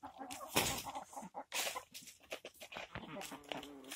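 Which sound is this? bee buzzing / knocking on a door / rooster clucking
rooster clucking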